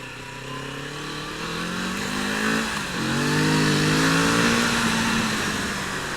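Kawasaki Z650 RS motorcycle accelerating on a ride, its engine note climbing steadily through the gears with a brief dip at a shift, loud and continuous with rushing wind.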